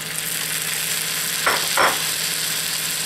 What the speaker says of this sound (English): And I'm going to deglaze the pan.